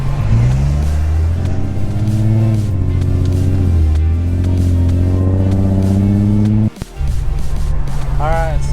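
A 2013 Infiniti G37 sedan drives after a transmission swap, its engine droning and rising in pitch through the gears from inside the cabin, with a brief drop near the end.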